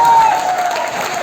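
Brief burst of crowd applause greeting an actor's entry on a Bhojpuri film shoot, steady clapping heard under a voice.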